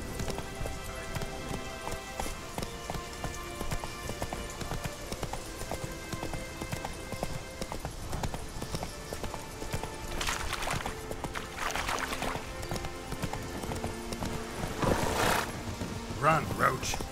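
Roach, a horse in The Witcher 3, gallops with steady rhythmic hoof clip-clop over game music and ambience. A voice speaks intermittently over the hoofbeats.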